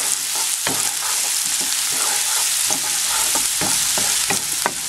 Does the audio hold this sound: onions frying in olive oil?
yes